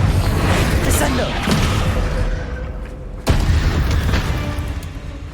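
Descendo spell from Hogwarts Legacy slamming down in a dense game fight, with a sharp heavy impact partway through over continuous rumbling effects and clatter.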